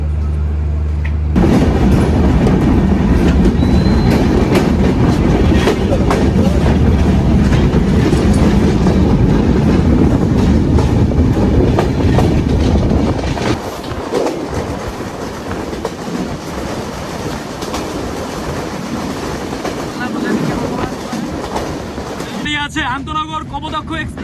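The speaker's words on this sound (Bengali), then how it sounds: "আন্তনগর সাগরদারি এক্সপ্রেস যে ট্রেনটির গন্তব্য রাজশাহী" Sagardari intercity express train bound for Rajshahi passing Darshana halt station, a loud sustained rumble and clickety-clack that eases slightly partway through, with a person speaking over it.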